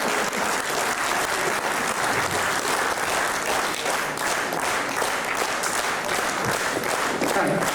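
A Polish concert audience applauds a folk ensemble with steady, dense clapping that fills the whole stretch, loud and continuous with a hint of crowd murmur.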